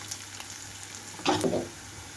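Steady sizzling of onions frying in a pan for ivy gourd fry, with a brief louder burst of stirring midway; no voices.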